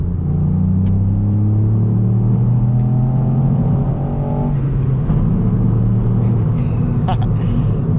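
A Ford Fiesta ST accelerates hard along a straightaway, its engine droning and rising steadily in pitch from inside the cabin, loud and continuous, with a voice briefly talking over it.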